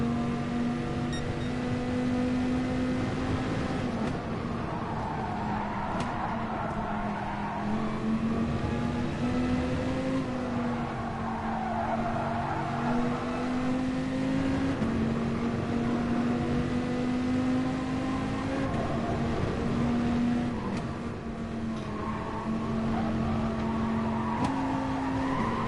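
A Dodge Viper race car in Gran Turismo Sport holds a steady, loud engine drone that rises and falls gently through corners, with tyre noise over the whole stretch and no voices.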